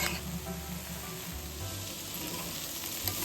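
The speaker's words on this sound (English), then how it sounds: "Cover it and cook until the bitter gourd is cooked and tender." Bitter gourd stir fry sizzling in a pan, a soft, steady, close crackle of frying with a faint low clunk partway through, no voices.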